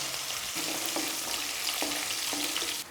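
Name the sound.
cashews frying with cumin and green chili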